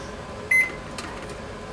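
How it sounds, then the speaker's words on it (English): A home oven's control panel gives a short electronic beep while being set to bake, then a second beep starts at the very end; a faint hum and a few small clicks fill the gap between them. "I am going to set the oven now"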